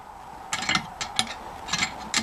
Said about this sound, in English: cinch the bolts down